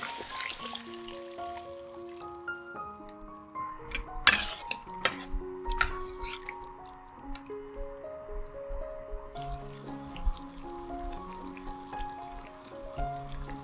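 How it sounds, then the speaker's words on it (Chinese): Stock poured into freshly stir-fried ingredients in a pan for a vegetarian fish-slice rice noodle soup, with liquid splashes, drips and utensil clinks against the pan, fairly quiet and close. "将高汤倒入刚刚炒好的食材中，炒一炒。"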